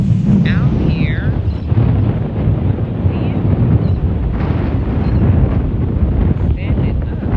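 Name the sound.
strong wind at the sea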